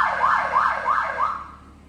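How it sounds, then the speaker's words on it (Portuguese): An armored 2017 BMW M3 F80 sounds its built-in siren, a loud, close wailing tone that rises and falls four times in quick succession before cutting off. "Carro blindado geralmente vem com sirene"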